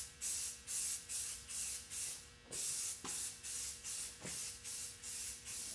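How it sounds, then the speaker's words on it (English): An aerosol can sprays a second coat of primer onto a motorcycle helmet in a rapid series of short hissing bursts, about eleven of them, close and fairly loud, with faint handling clicks between some passes. "we're going to go ahead and hit it with the second coat of the primer"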